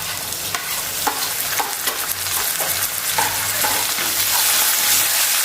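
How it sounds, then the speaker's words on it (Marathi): A spoon stirs bottle gourd curry with coriander and tomato in a sizzling pan, scraping and clinking in an uneven rhythm over a constant frying hiss, close and alone with no talk. "व्यवस्थित मिक्स करूया"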